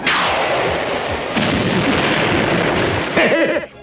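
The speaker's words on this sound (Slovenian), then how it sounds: "Kdorkoli je že to, ionska eksplozija bi ga morala prestrašiti." Ion blast explosion in a He-Man and the Masters of the Universe cartoon, a loud sustained roaring burst of booming blasts that fills the whole moment, with a voice briefly heard near the end.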